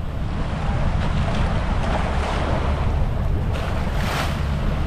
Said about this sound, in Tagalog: Ayan, lalaki na lang alon dito.